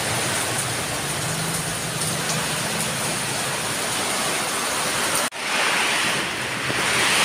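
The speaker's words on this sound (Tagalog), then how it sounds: "Lakas po ng buhos ng ulan at saka hangin" Heavy rain and strong wind from a typhoon making landfall in Placer, Masbate, roar in a loud, dense, unbroken wash with gusting rumble, cutting out for a brief moment before returning just as strong.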